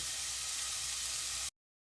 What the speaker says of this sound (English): we're just going to gently cook the onions down